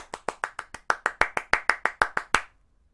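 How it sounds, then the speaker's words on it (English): Rapid hand clapping during a body percussion warm-up: about fifteen quick, crisp claps in a steady run, close and distinct, then abrupt silence. "I just want you to clap as fast as you can."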